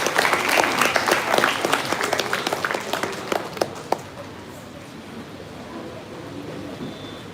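An audience applauds on stage arrival of a professor at an innovation workshop: dense, loud clapping for about four seconds, then fading into low room murmur.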